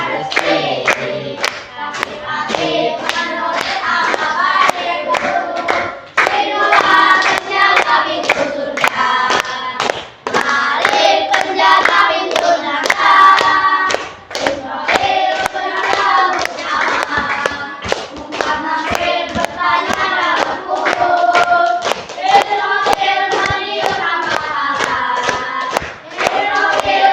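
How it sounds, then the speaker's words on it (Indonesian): Primary school pupils clap their hands together in a classroom, a dense, steady patter of many small hands close by, with voices chanting and shouting over it throughout. "tepuk tangan untuk kita semuanya"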